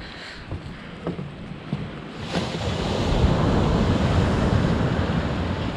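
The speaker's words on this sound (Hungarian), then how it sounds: "Micsoda hullámokat vet." Sea waves surging at high tide by a fishing harbour in Sarti, Greece, with water flooding the road; a steady broadband wash swells louder midway, with some wind buffeting and no talk.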